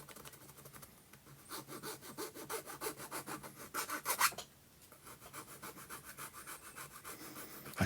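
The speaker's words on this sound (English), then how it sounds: "I'm just finishing off with a small file, any of the bumpy bits" Small hand file rubbed in quick, steady rasping strokes over a clay model of ornate stone surrounds, close and clear with a brief pause midway.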